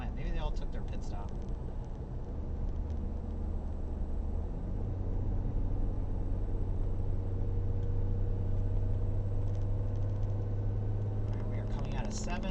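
An on-board race car in the Green Grand Prix exits turn 7 and accelerates up a hill, its engine a steady close droning hum that settles into a firmer, higher tone partway through.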